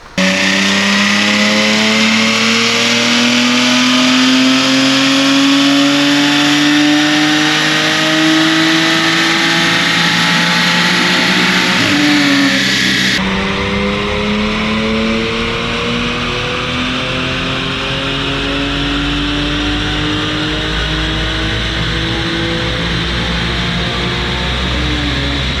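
Audi 3.0-litre supercharged V6 car on a dyno pull, loud close engine and supercharger whine climbing steadily through the revs, a sudden drop midway after a gear change, then rising again to the end.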